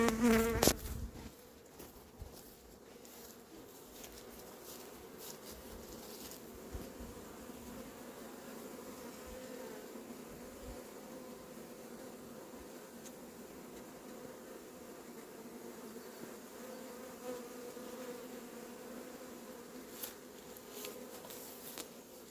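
A steady, dense buzzing of a honeybee swarm being poured into a hive fills the clip, continuous and close, after a brief louder rustle at the very start.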